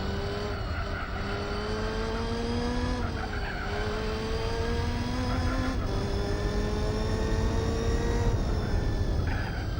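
A high-revving race car engine in Gran Turismo 4 on PS2 whines continuously, its pitch climbing and dropping through gear shifts, with occasional tire squeal, during an endurance race at El Capitan.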